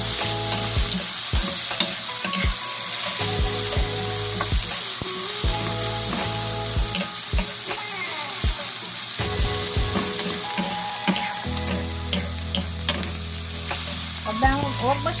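Onion and tomato frying in a pan, a constant close sizzle broken by frequent utensil scrapes and stirs, steady and fairly loud throughout with no voices.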